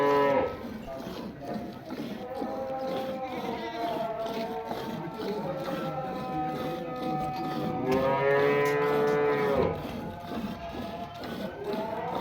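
A Cholistani Friesian cross cow moos several times in long, drawn-out lowing calls, the loudest one near the end, heard close by on a farm.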